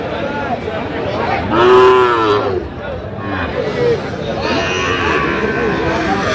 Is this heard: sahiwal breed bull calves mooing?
yes